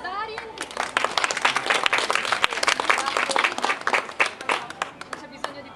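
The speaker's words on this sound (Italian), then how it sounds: "applauso ad Arien." Loud, lively applause from an audience at a cosplay fashion show, many hands clapping rapidly and evenly, fading slightly toward the end.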